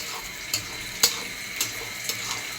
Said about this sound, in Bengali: এখন আমি পেঁয়াজ দিয়ে নাড়াচাড়া করে নিচ্ছি।